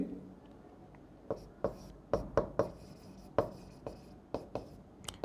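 Chalk or marker strokes on a board during a lecture, a series of sharp taps and short scrapes in an irregular rhythm, close and fairly faint.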